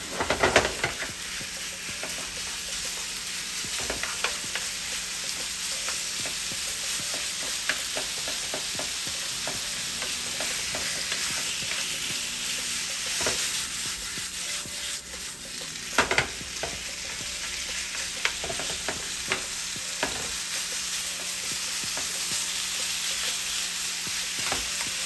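Chicken searing in a pan for pasta, a steady loud sizzle and hiss of frying throughout, with occasional scraping clicks of stirring, close and unbroken with no talk.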